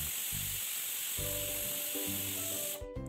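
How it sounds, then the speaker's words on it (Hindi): A pressure cooker on a high gas flame with peas boiling inside lets out a loud, steady hissing whistle with a tonal hum that persists throughout and stops sharply at the end. "तो यहाँ आप देख सकते हैं कुकर में सीटी आ गई है।"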